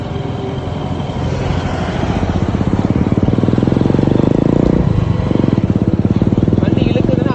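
A motorcycle engine runs while riding, a loud close buzzing drone that strains as it pulls at low speed, with someone talking over it.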